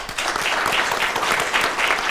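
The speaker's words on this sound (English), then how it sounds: "A big round of applause, please." Brief, steady burst of applause from an audience at a conference on deep technologies, even clapping from many hands throughout the short clip with no pause.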